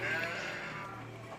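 Sheep bleat faintly at a sheep and goat farm in Wuluhan, Jember, with a thin wavering cry early on over a low steady background hum.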